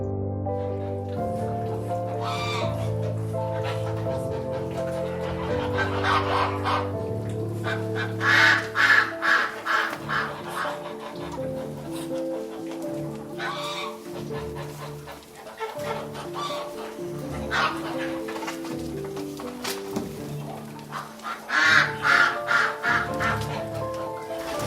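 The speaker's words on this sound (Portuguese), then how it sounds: "Pato." Ducks quack and honk repeatedly in uneven bursts, fairly close, over a steady background of other farm birds.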